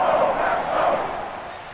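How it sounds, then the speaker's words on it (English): Stadium crowd roaring in Madden 22 during a 49ers at Packers playoff game, a steady loud swell of cheering that dips slightly toward the end, with no other sounds standing out. "The crowd's not doing that O-line any favors."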